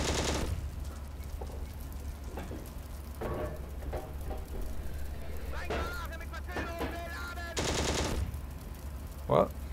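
In the tank game Steel Fury, the tank's gunner fires a machine gun: short bursts of rapid gunfire over a constant low engine rumble, with someone talking in between.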